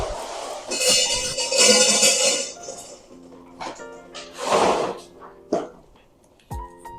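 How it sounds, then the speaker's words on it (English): A dog eating food in a kitchen while cauliflower is prepared, heard as scattered clinks and rattles of kibble against a bowl, intermittent and fairly close, with bright metallic ringing tones mixed in. "That was the dog getting more food."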